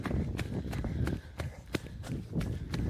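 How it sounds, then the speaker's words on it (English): A racer's running footsteps at a Spartan sprint race on Blue Mountain in Canada, a quick, steady rhythm of soft thuds over outdoor background noise, fairly close. "you hear those footsteps picking up pace"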